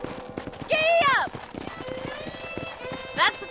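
A horse galloping in the Red Dead Redemption video game, quick clip-clop hoofbeats with brief whinnies, heard under a voice urging it on.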